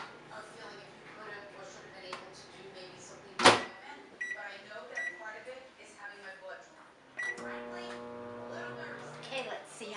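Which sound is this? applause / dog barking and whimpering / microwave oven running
microwave oven running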